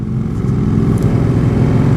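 A passing truck's heavy engine rumbles steadily nearby, a continuous low drone that swells slightly as it goes by.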